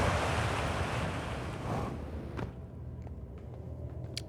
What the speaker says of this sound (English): So this was behind the waterfall.